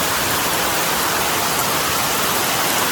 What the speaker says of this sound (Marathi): मित्रांनो मस्तपैकी पाऊस सुरू झाला आहे.